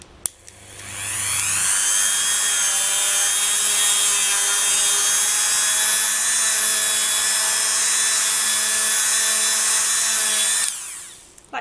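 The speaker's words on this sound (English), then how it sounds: "you can use a cloth or you can use a buffing wheel" A buffing wheel spins against a polymer clay heart pendant, a steady high whirring drone that starts at once, holds loud and even for about nine seconds, then cuts off.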